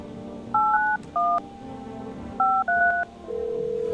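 Dual-tone keypad beeps from a phone number being dialed in a horror video game, heard as a handful of short electronic tones in two quick clusters, then a sustained ringing tone begins at the end.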